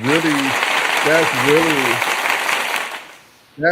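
A canned applause sound effect, set off from a button, bursts out as a steady wash of clapping and cheering that runs under voices and laughter, then cuts off abruptly near the end.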